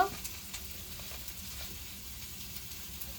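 Fish curry with magur and shol fish being stirred with turmeric powder in a frying pan, a low steady sizzle with faint occasional spatula scrapes, quiet and close.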